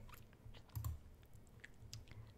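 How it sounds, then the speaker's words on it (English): Typing on a computer keyboard during a live sewing show, soft irregular clicks and taps of keys, quiet and close, with a few heavier thumps mixed in and no speech. "you can hear all this keyboard typing and stuff"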